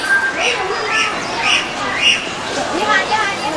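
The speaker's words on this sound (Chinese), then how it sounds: "虎皮鹦鹉挺漂亮的啊。" Budgerigars squawk and chirp in a forest park, a series of rhythmic bright calls repeating about every half second at moderate distance, with people chatting faintly in the background.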